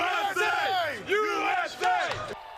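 A packed crowd of World Cup soccer fans gathered in a downtown rail yard roars and cheers in loud, surging waves of massed voices and shouts.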